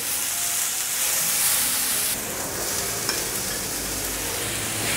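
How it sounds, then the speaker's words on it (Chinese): Celery and shiitake mushrooms stir-fried in hot oil, a steady dense sizzle with occasional scraping and tossing, close up with no talking. "放入芹菜炒香， 炒到芹菜变绿色，现在放入香菇"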